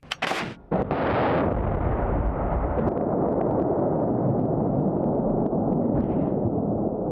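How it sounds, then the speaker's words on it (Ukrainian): A 203 mm self-propelled howitzer fires with a sharp, booming blast, followed by a long rumbling roar that echoes and fades slowly. "Гармата 203 мм видає три постріли за дві хвилини і влучає в ціль."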